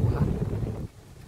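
Strong wind and rain roar in a loud, rumbling wash of gusts that buffet the microphone, then ease off sharply toward the end.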